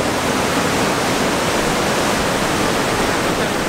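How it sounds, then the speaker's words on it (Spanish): Guyangan waterfall on Nusa Penida, Indonesia, roars as a steady, dense broadband rush of falling water, loud and close, with no voices. "en primer lugar es una cascada, estoy parada en la cascada, miren"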